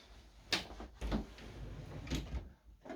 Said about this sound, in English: I'm just going to reach across to my drawer